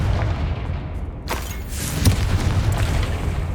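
A Confringo spell in Hogwarts Legacy bursts with a loud boom, followed by a rumbling explosive roar and crackling debris that sustains under the game's battle noise.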